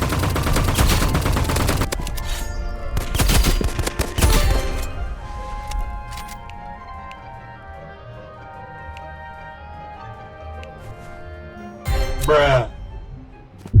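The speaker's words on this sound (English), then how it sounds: "You can also hear the enemy weapon at the start." Rapid bursts of enemy automatic weapon fire in the shooter game Rivals crack loudly at the start of the clip, and another short burst comes near the end, with quieter game sounds in between.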